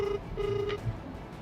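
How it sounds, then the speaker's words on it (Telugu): Telephone number being dialed, a short sequence of clear keypad tones, a few distinct beeps in quick succession, close and fairly quiet, with no talking. "ఒకసారి ఫోన్ చేద్దాం."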